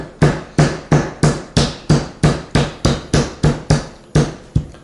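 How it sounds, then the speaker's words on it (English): A carpenter's hammer pounds chokecherries in a stone bowl, about thirteen loud, close, evenly spaced thuds in a steady rhythm, each with a short decay, and no talk. "a carpenter's hammer, and you just smash them up, okay? Mash them."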